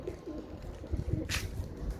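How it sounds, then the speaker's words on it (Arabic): A pigeon coos softly in the distance, low and faint, with a brief hiss of other noise partway through. "والله ذاك طير غريب."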